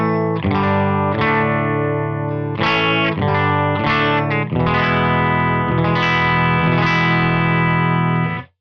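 An electric guitar through an Abernethy Sonic Empress pedal rings out distorted, effected chords, sustained and thick with a shimmering modulation, played steadily and loud for several seconds.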